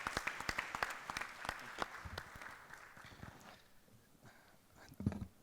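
A small conference audience claps at an electronics supply chain event's inaugural session, quick scattered hand claps dying away over a few seconds, faint and somewhat distant.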